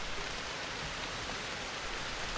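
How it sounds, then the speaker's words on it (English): Rainwater drips and patters from Saskatoon bushes after a downpour, a dense, even hiss of drops heard close and steady throughout, with no voices. "these Saskatoons just dripping with rainwater"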